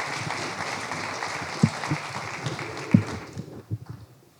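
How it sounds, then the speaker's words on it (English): An audience at a municipal election all-candidates forum applauds, a brief burst of clapping with a few sharper claps that tapers off into quiet. "that's another round of applause"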